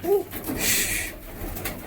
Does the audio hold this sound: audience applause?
no